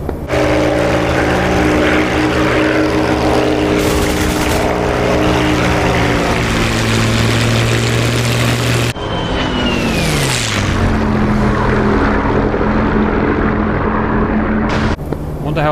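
Propeller aircraft engines at full RPM in a DCS World War II flight sim, a loud sustained drone with steady harmonic tones and a pitch swoop partway through. Voices talk over the engine noise.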